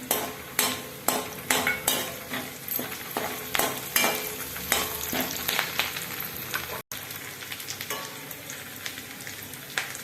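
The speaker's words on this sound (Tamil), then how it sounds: "கருவேப்பிலை போடுறேன்." Curry leaves sizzling in hot oil with cumin and ginger for Tamil mango rice, a bright crackling fry punctuated by regular sharp clinks and scrapes of a spoon against the pan, no talking.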